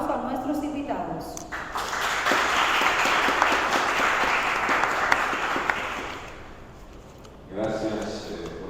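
An audience applauds to welcome guests at a book presentation, a sustained round of clapping that swells and fades, with voices speaking before and after it.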